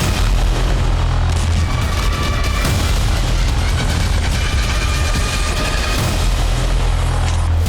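Loud, dense rumbling of explosions and heavy blasts from attacks on Russian cities, a continuous barrage of booms filling the whole stretch with no voices.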